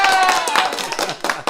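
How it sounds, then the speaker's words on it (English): A small audience applauds at an interview event, brief scattered clapping with a few sharp hand claps mixed under a chatty, lively room. "I think we got a little applause."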